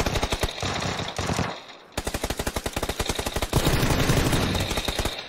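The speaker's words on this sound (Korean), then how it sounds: "한 명은 쏘고 있어요, 쏘고 있어" Sustained automatic gunfire in PlayerUnknown's Battlegrounds on Xbox, loud, close rapid bursts that pause briefly and then resume in a long, dense volley.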